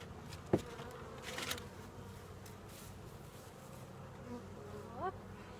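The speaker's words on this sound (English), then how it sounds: "What's that sound? That bee sound." Honeybees buzz at a beehive during spring hive work, a faint, continuous drone of many insects in the background, with a few soft knocks and brief squeaks over it.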